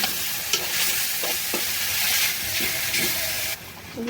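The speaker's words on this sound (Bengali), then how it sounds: "আলু দিয়ে দিলাম আলুগুলো একটু কষিয়ে নেব" Potatoes fry with fish in a hot pan: a loud, constant sizzle with spatula scrapes and stirring knocks about every half second, quieting abruptly near the end.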